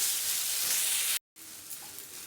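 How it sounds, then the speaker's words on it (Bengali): Mashed potatoes sizzling and frying in a kadai for an aloo chop mix as they are stirred, a steady bright hiss broken by a brief moment of silence. "দিয়ে আবারও ভালো করে নাড়াবো"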